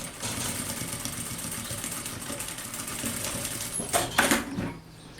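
A sewing machine runs steadily while stitching a fabric pouch closed, a continuous close hum that briefly swells and then stops near the end.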